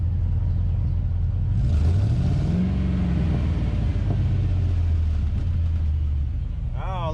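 Car engine with misfiring cylinders idling and briefly revving up and back down, a continuous close rumble with an uneven low note, and faint other sounds near the end.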